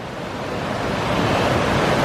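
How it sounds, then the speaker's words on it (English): Bridal Veil Falls rushes down rock in a steady, dense roar of falling water that swells slightly louder toward the end, with no voices. "I just love the way the water slides down the rock"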